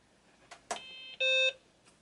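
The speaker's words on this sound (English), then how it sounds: "this was the computer that did work, and it made a beep" A BBC computer sounds its startup beep through a connected speaker: a short steady electronic tone, fairly loud and clear, preceded by a couple of brief clicks with no speech.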